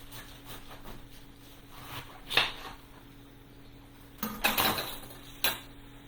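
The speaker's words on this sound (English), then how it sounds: "So I'm going to slice it into what I consider would be wide slices like lasagna." A knife cuts cabbage into wide, lasagna-style slices, giving a few crisp chopping thuds against the board, one near the middle and a quick cluster toward the end, over a quiet kitchen background.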